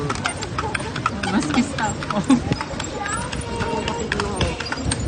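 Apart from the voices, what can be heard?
horse hooves clip-clopping pulling a kalesa carriage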